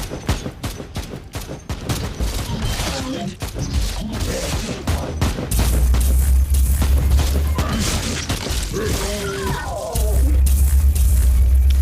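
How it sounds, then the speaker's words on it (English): A frag grenade goes off in the Warhammer 40k Inquisitor Martyr video game, a booming blast with a sustained low rumble amid rapid gunfire-like bursts and battle noise, loud throughout. "Ooh, frag grenade."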